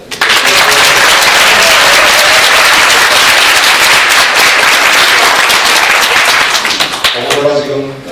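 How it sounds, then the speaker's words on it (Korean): Loud, sustained applause from a ceremony audience, dense clapping filling the room for about seven seconds before fading as a voice begins speaking. "박수 한번 부탁드립니다."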